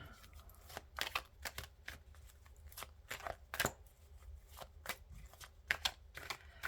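Tarot cards are handled and covered close by, giving quiet, irregular papery flicks and slides in quick clusters with short pauses.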